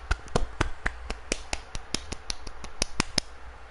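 Sharp, irregular hand claps, about twenty of them, ring out close by at a brisk, uneven pace with no talking.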